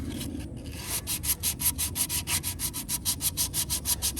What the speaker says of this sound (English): sandpaper for some edges. And that 80 grit will remove a good bit of material.